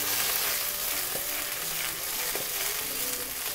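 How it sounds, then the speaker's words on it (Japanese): Eggplant and garlic frying in olive oil in a flat pan sizzle steadily and densely while the pan is swirled, with a few faint scraping knocks, close and continuous with no talking. "そうしたら一回フライパンフラットにして回します。"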